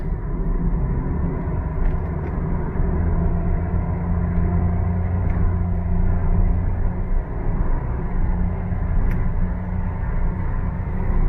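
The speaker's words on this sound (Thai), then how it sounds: "เริ่มจากความเร็ว 60 ครับ ชัดเลยครับ กดเลย" A stock Mitsubishi Attrage accelerates from 60 to 100 km/h, heard from inside the cabin as a loud, steady low engine and road rumble that holds throughout with no talking.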